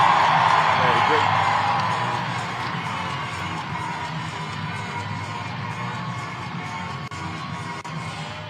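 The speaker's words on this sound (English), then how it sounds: "Big round of applause for Quinn." A crowd at a Banana Ball baseball game cheers and applauds loudly at first, then settles into a steady murmur, with voices over the noise.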